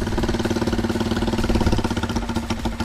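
A Motomel Skua 250 motorcycle engine running just after a kick-start, a loud close single-cylinder idle with steady rapid pulsing throughout.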